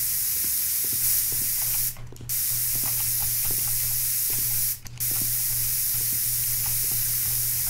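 Plaster is sprayed onto house walls with a spray tool in the Builder Simulator video game, giving a loud, continuous hiss that breaks off twice briefly with sharp clicks, over a low steady hum.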